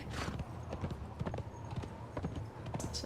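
Horse hooves clip-clop steadily in the video game Conan Exiles, a close, even trotting rhythm that runs through the whole stretch with faint background sounds.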